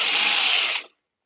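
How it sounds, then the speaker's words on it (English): A power drill bores freehand at a craft workbench in one steady high whine that cuts off sharply just before the end. It is loud and close and heard alone. "That's one thing about drilling freehand sometimes."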